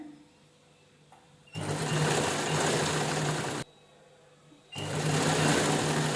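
A sewing machine stitches a seam on an apron made from an old shirt. The motor whirs and the needle chatters in two steady runs, close and loud, with a short pause between them.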